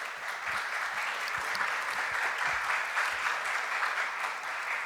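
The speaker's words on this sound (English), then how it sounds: "Please give him a big round of applause." Audience applause at a business forum presentation, sustained and even clapping from a large crowd, moderately distant and steady throughout, with no talking over it.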